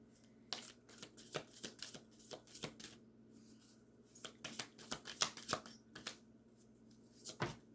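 Tarot cards being shuffled by hand, a run of quick close riffling bursts and flicks in uneven clusters, fairly quiet, with no talk.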